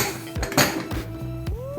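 Metal pressure cooker lid set down and locked shut while a fish biryani cooks, giving a few close clanks and scrapes of metal on metal over a short stretch.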